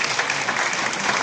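Dense, steady applause from an audience at an Urdu journalism bicentenary conference, a brief continuous wash of many hands clapping throughout.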